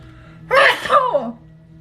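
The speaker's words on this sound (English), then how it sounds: "I'm gonna sneeze." A single sneeze bursts out, loud and close, with a sharp breathy onset and a trailing voiced tail, then quiet.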